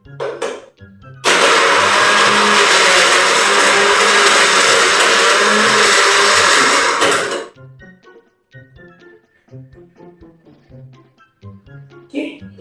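A kitchen blender roars loudly for about six seconds, a steady harsh whir that starts and stops abruptly, followed by quieter handling clatter and small knocks.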